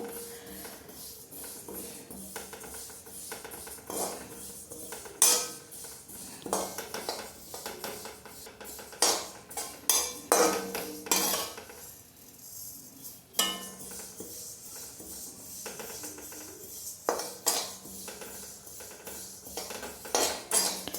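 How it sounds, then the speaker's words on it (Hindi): Sesame seeds stirred while dry-roasting in a pan for sesame, jaggery and wheat flour laddus, with a utensil repeatedly scraping and clinking against the metal in an irregular rhythm, close and fairly loud, with no talking. "तिल को भून लेंगे तो ये हल्के से ब्राउन हो जाएंगे और थोड़े फूले फूले से लगेंगे, तो इसको चलाते हुए भून लेंगे"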